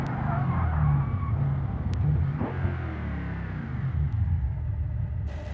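A car in the BeamNG driving game decelerates from about 170 mph after a long straight, its engine rumble dropping in pitch with a falling whine, close and continuous.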